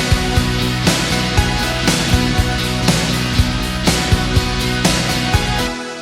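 Full band recreation of a song, with a synth wave adding low end beneath it. Steady, loud and dense, driven by punchy, evenly spaced drum hits, with no talking.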